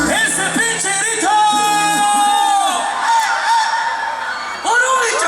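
A live audience at a regional Mexican music performance by a band in Santa Fe de la Laguna lets out loud yells and whoops over the music, with sustained shouting across the clip.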